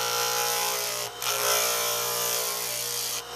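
A power sander whirs with a harsh, grinding buzz against wood, briefly easing off twice as pressure changes, loud and close.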